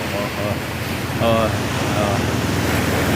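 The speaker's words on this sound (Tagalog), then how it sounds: "Malakas ang alon." Strong sea waves wash steadily against the shore at Fortune Island in Batangas, a broad continuous surf roar with wind noise, while a few faint voices and brief tonal calls sound over it.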